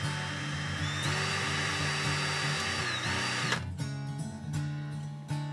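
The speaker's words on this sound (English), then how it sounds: "Let's drill this one, put the extra holes in this one." A power drill whines steadily at close range, its pitch rising and dipping as it bores, then winds down into mechanical rattling.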